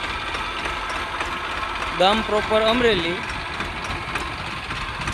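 A 2012 Mahindra Bhumiputra or New Holland tractor engine idling steadily, a low continuous rumble running underneath someone talking.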